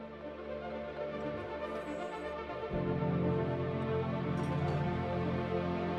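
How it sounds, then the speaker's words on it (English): A steady electronic drone that suddenly swells into a louder, fuller hum partway through as a solar panel comes online in the game Surviving Mars. "that was the sound of one solar panel coming online."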